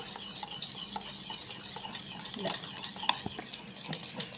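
A homemade liquid detergent made with soap is stirred in a container, giving soft scraping and clinking strokes at an irregular rhythm over low, quiet background noise, with no voices.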